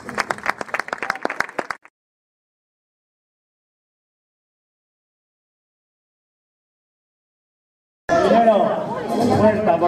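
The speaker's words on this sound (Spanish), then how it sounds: "Un aplauso para estos 5 chavales." Audience applause breaks out at an event in a small contest hall, a burst of clapping and crowd chatter arriving loudly after about six seconds of silence that follows a short earlier patch of clapping.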